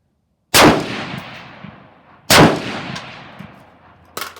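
Two loud rifle shots fired at steel targets ring out about two seconds apart, each a sharp crack with a long ringing decay, followed by a fainter metallic clang near the end.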